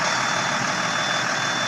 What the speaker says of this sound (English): Now I'm going to restart my engine.